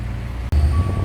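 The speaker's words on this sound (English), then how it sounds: "There's trucks, forklifts, all sorts of machinery going everywhere." A busy scrapyard with trucks and forklifts working nearby: a loud, low engine rumble fills the moment, with a brief dropout and a thin steady reversing tone emerging near the end.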